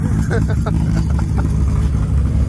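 A GTR car engine rumbles steadily with a deep low drone, rising slightly in pitch now and then, while a voice talks over it.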